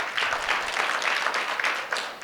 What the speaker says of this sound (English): please give her a loud, loud applause